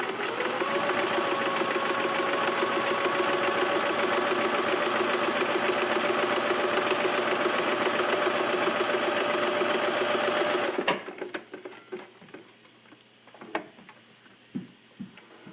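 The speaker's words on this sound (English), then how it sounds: "I have a very noisy sewing machine." A noisy sewing machine stitches a quilt rapidly and steadily for about ten seconds, loud and close, then stops, leaving faint clicks and handling noises.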